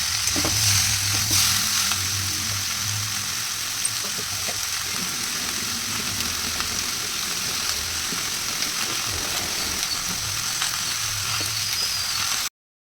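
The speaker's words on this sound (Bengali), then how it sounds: "লোহার কড়াইতে না আমি রান্না করছি" Food sizzles steadily in an iron wok, an even, close frying hiss with occasional faint stirring, continuing for about twelve seconds before cutting off abruptly.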